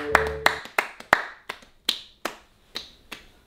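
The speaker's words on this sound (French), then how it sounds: "Donc je pense qu'on peut s'applaudir" A small group of French-speaking young men give themselves a round of sharp, distinct claps, about ten crisp separate hits spaced evenly across a few seconds, close and fairly loud with nothing else around them.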